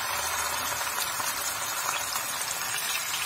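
Chicken pieces, wings among them, frying in oil for a keema dish, making a steady close hiss and sizzle with fine crackling that stays even and unbroken from start to finish.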